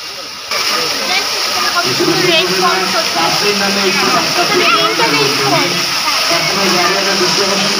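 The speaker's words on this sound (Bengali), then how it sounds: "দেখেন কত সুন্দর ঝর্ণা" An artificial waterfall in Sharif Melamine Park, Keraniganj, pours with a constant loud hissing rush of falling water close by, while a person talks over it.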